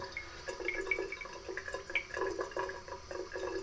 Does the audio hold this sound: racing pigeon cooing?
no